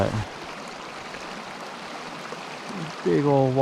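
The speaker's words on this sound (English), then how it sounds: "big old waterfall coming down, feeding this stream" Steady broadband rush of a large waterfall pouring into a stream, constant and fairly close, with a voice starting to speak near the end.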